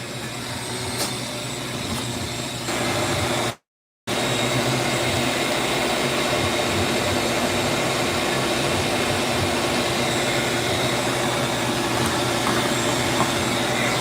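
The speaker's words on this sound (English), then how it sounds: "I gotta get the vacuum, guys." A shop vacuum in a bowling pro shop, running loud and close with a steady motor whine and airflow roar, briefly cut off near the start and then continuing unbroken.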